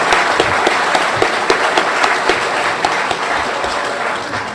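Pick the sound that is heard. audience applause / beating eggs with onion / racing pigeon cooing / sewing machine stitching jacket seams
audience applause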